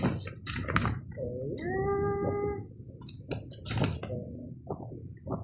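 A cat meows a few times, drawn-out tonal cries close by, with soft tapping and rustling between them.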